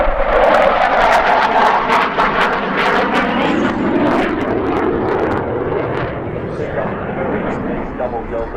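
A SAAB 35 Draken double-delta jet fighter flies past at an air festival, its loud roaring engine sweeping and fading over several seconds, with a voice commentating over it.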